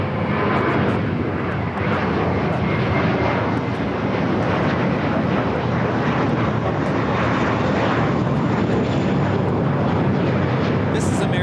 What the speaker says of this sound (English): 3229 taking off to Los Cabos on the A321